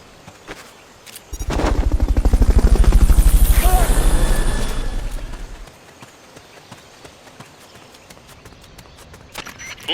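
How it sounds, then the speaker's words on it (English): Helicopter rotor thumping in the Metal Gear Solid Peace Walker video game during a Fulton recovery, a loud rhythmic chop that swells up, peaks and fades over several seconds amid sharp game sound effects. "Fulton recovery subject confirmed onboard helicopter."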